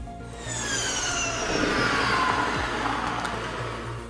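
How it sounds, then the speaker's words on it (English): A 2021 Ferrari SF90 Spider hybrid supercar engine rises in pitch, its whine and exhaust roar climbing steadily over a few seconds, loud and close. "you have the pure and direct pulsations by the engine near to the ear"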